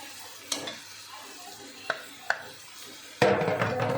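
Neem leaves dropped into hot oil with fried eggplant: a few sharp stirring clicks against the pan, then a loud burst of sizzling as the leaves hit the oil.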